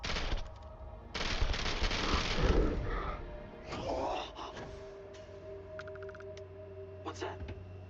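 Gunfire aimed at the player in Starfield, a loud dense burst of rapid automatic shots followed by scattered single shots and mechanical clatter, with a voice talking over the game sound.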